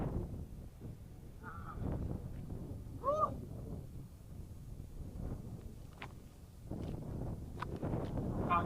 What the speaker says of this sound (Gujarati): મારો પવનને કારણે તમને અવાજ કદાચ નહીં આવતો હોય.